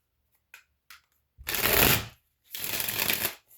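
Tarot cards being shuffled by hand, a few soft taps and riffles at first, then two long, loud, close bursts of papery shuffling separated by a short pause.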